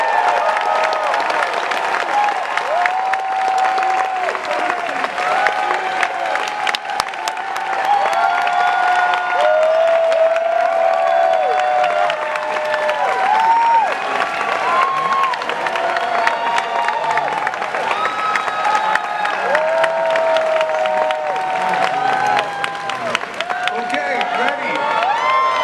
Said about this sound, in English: I want you to give a big round of applause to the good folks from Tron.